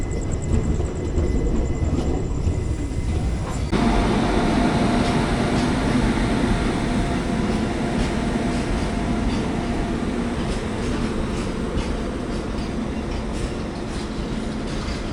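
Continuous rumble and rattle of the Chennai–Palakkad Superfast passenger train leaving Salem Junction, steady and close, with rhythmic clacking over the rails and no speech.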